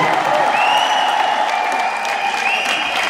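Crowd applause from the audience at a concert in Toronto in 2016, steady and fairly loud, with a long wavering high tone ringing through it.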